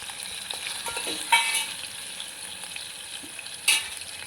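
Liver fries in oil in a pan with a continuous soft sizzle and spatter, broken by two sharper scraping stirs, close and steady, no one talking.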